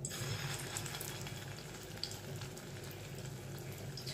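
Batter of pumpkin fritters frying in hot refined white oil, giving a steady, dense sizzle that runs unbroken from start to finish without any voices.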